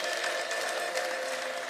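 A church congregation during a sermon gives a steady, high, wavering ululation mixed with cheering, dense and continuous, with no distinct single voice.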